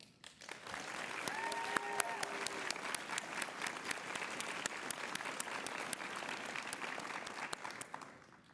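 Sustained applause from a ceremony audience at a law school pinning event honoring orientation planning committee members, steady clapping filling the room for several seconds with a faint crowd murmur.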